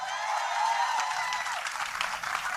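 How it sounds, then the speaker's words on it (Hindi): Crowd applause at a film trailer launch event, a softer broad wash of clapping from a large audience with a faint tonal hum mixed in, steady throughout. "जॉनी भाई के लिए एक बार हाथ ऊपर करके जोरदार ताली होनी चाहिए।"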